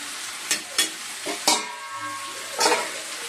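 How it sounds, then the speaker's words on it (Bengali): Vegetable curry of drumsticks, potato, pumpkin and pointed gourd frying in a pan after tempering with black cumin, dried chili and garlic, with several sharp stirring scrapes over a steady soft sizzle. "এই যে বন্ধুরা, ডাঁটা, আলু, কুমড়ো, পটল তরকারি বসিয়ে দিয়েছি।"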